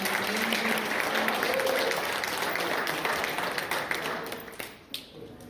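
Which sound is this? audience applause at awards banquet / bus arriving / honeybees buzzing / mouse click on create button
audience applause at awards banquet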